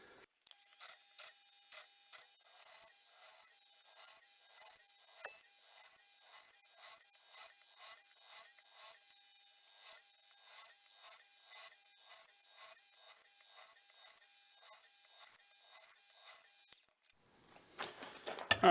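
Pin holes are drilled through a forged harpoon point hunting knife blade, a close, steady whine broken by regular rhythmic ticks for about seventeen seconds, ending with a clatter.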